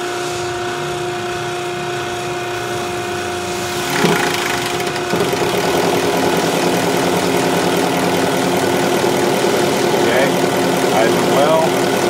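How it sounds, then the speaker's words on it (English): An engine with eight fuel injectors and a ported fuel rail fitting rises to a steady idle after startup, a constant loud drone with a faint hum and voices talking over it. "we'll bring this guy up to idle"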